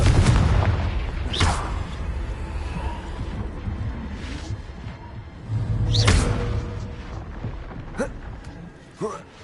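Confringo fire-spell blasts in the game Hogwarts Legacy, loud booming bursts with whooshing tails, one near the start and another around the middle, over a low rumble, with someone talking throughout.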